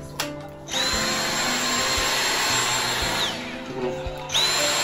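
Dyson cordless stick vacuums, a V6 and a V8 Slim, run side by side: a high-pitched motor whine kicks in, winds down after a few seconds, then starts up again loudly.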